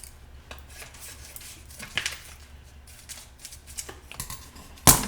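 A few soft snips and rustles, then a sharper crunch near the end as blades cut through crinkly packaging, close by with no talking.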